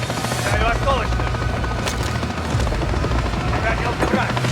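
A helicopter in the shooter Call of Duty Modern Warfare 3 churns loudly and steadily throughout, its rotor wash mixed with distant gunfire and a brief radio-style voice in French.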